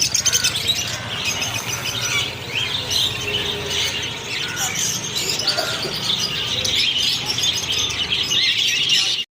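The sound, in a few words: caged lovebirds and finches chirping at a market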